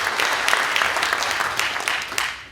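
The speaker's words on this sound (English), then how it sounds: "Please give them a round of applause." An audience at an emergency room dedication claps in a dense, lively burst of applause that carries on steadily and then starts to fade near the end.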